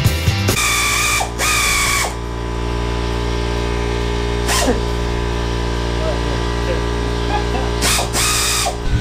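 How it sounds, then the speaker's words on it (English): A hand ratchet tightens spring compressors on a car strut during an Eibach Sportlines lowering spring install, giving loud, close rapid clicking bursts over a steady background hum. "spring compressors to tighten up the spring, so we're able to get that out"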